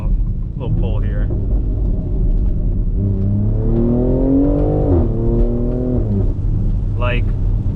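A BMW X3 M with a loud aftermarket exhaust accelerates hard, its deep engine rumble rising steadily in pitch through a pull. The sound is close and loud throughout, and a voice can be heard over it.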